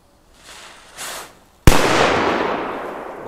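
Shark PS5 firecracker: a faint fizz of the fuse, then one sharp, very loud bang followed by a long rolling echo that slowly dies away outdoors.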